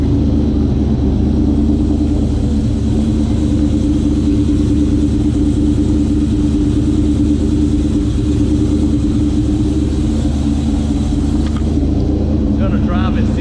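A lowered Ford Mustang Mach 1 street car with a 6R80 automatic transmission runs with a loud, steady, close engine rumble that holds throughout without a break.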